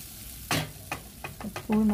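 Sizzling of spices frying in a hot pan with stirring scrapes, a few sharp bursts of frying that swell louder near the end, while cooking Jaffna-style tin fish curry.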